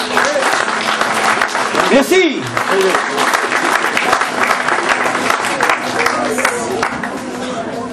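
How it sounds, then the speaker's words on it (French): An audience applauds dancers from a traditional ensemble, a steady wash of clapping filling the room throughout, with a voice briefly speaking over it. "On va applaudir les danseurs, s'il vous plaît"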